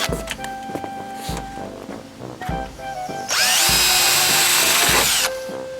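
A power drill works during installation of a Larson storm door, first a few short whirring bursts amid clicks and knocks, then a sustained loud high-pitched run of drilling, close by with no voices.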